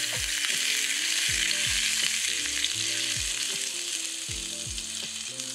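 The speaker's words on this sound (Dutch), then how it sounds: "Nu ga ik even de knoflookjes bakken" Steady, loud sizzling of garlic frying in a hot pan, continuous with no talking, with light music playing underneath.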